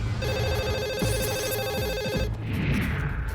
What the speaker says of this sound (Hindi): सैन फ्रांसिस्को में यूनाइटेड एयरलाइंस के दफ्तर में फोन की घंटी बज उठी